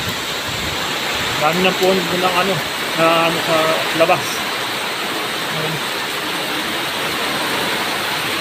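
Strong wind and rain from Typhoon Uwan in Camarines Sur make a steady, loud roaring wash, while a person talks briefly over it.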